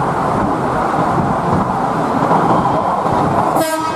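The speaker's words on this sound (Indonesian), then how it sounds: "Wow, ini ada kereta cepat." A high-speed train rushes past close by with a loud, steady roar of rolling wheels for a few seconds before cutting off.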